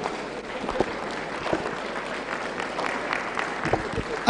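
A church congregation at a convention gives a clap offering, standing as they applaud in a moderate, steady wash of clapping with scattered sharper claps and some crowd murmur underneath.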